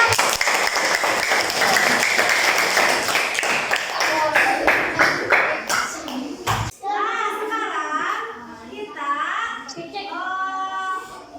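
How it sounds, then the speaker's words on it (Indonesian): A grade 5 class claps together in a burst of rapid, loud applause lasting several seconds, then the clapping stops and children's voices are heard talking. "Ya, tepuk tangan dong."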